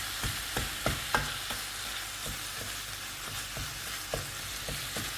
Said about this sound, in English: the garlic's gone in there now, and all that's left to do is to mix everything up and let it cook